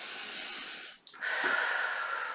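A deep breath drawn in through the nose, close and soft, then a steady airy inhale swelling over about a second, with no talk.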